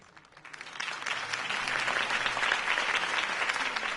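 Applause from a crowd in a video game swells quickly from quiet and holds as a steady, dense clapping wash, with no voices over it.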